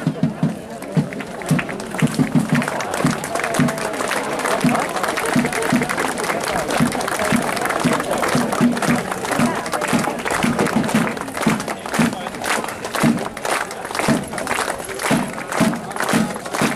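Crowd applause at the unveiling of a pirate artwork in Dokkum, sustained outdoor clapping with a patter of individual claps and some overlapping voices, moderately loud and steady throughout.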